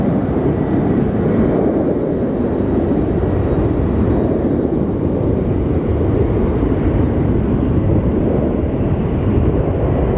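Loud, steady broadband roar of an airplane taking off at Sky Harbor airport, a continuous rumbling drone that holds at near-constant volume with wind buffeting across the microphone.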